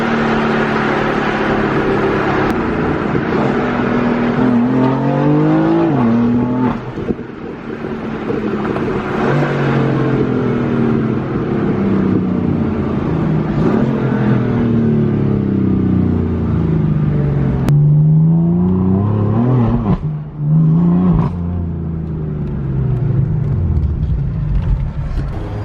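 A boosted Ford Mustang engine revs hard and accelerates, its loud, close roar climbing repeatedly through the gears with short dips between pulls and a steady rumble beneath.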